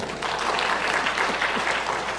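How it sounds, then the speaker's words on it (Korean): A church congregation at a Sunday afternoon worship service breaks into steady, dense applause that carries on without a break at moderate loudness, with no voices over it. "박수 한번 쳐주세요."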